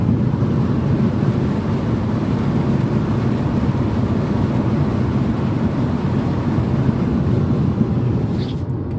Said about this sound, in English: it probably just heard the wind noise